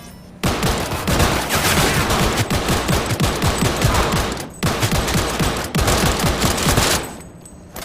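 Sustained automatic gunfire in the video game Cyberpunk 2077 rattles in long, dense bursts with a couple of brief pauses, loud and close, with no talk.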